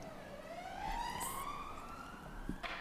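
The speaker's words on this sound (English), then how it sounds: "just waiting for the siren to go past" A single emergency vehicle siren passes outside during a council meeting livestream, a steady rising wail at moderate distance with no talk over it.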